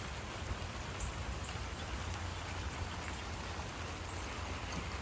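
Heavy rain pours down on a garden bed and plants, a steady, dense patter and hiss of countless drops that stays constant and fairly close, with no voices.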